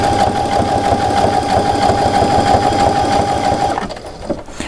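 A sewing machine runs steadily, stitching appliqué around a small snowman shape, a continuous loud whirring hum that stops abruptly near the end.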